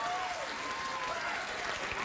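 Studio audience applauding and cheering at a late-night talk show, a steady, dense wash of clapping filling the whole stretch without pause.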